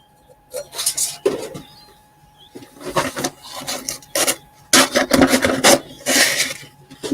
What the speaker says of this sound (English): It's going to have a sanding whether I like it